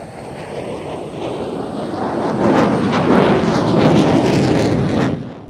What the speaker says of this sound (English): This is the second of the F-16's 360, which, as I say, was a bit quicker.